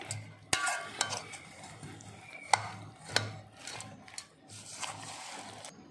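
Green chillies being tossed and mixed together by hand in a bowl for buttermilk chillies, giving soft scattered rustles and a few sharp knocks, close and fairly quiet.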